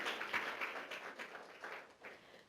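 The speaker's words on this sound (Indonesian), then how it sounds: "Boleh beri tepuk tangan sekali lagi Bapak Ibu?" Audience at a seminar applauding, a faint, scattered patter of hand claps that rises and fades over a couple of seconds.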